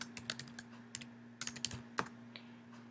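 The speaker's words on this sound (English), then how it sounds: "I can type my comment" Someone types a comment on a computer keyboard: quiet, close clicking keystrokes in short irregular bursts over a faint steady hum.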